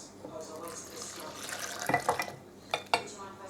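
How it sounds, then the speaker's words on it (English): Activated yeast mixture pours from a jug into a well of flour for pizza dough, giving a soft liquid trickle that builds into a few splashy, gurgling glugs near the end, close up in a kitchen. "now we need to pour it into the well"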